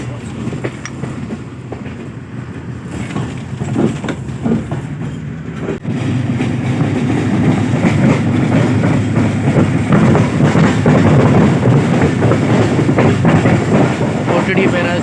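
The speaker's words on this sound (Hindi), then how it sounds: "तो दोस्तों, हम कोटड़ी रेलवे स्टेशन से रवाना हो चुके हैं।" A fast passenger train pulls out of Kotri railway station bound for Karachi, wheels clattering steadily on the rails with a rumbling carriage roar that grows louder and denser after a few seconds, continuous throughout.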